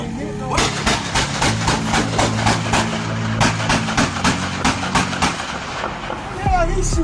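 A rapid string of gunshots, over a dozen sharp, evenly spaced cracks fired in a burst, rings out over a low engine-like rumble, with no speech heard.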